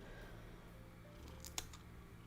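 A single quiet snip of small scissors trimming a purring cat's toe hair, one sharp click near the end amid a soft, low background hum.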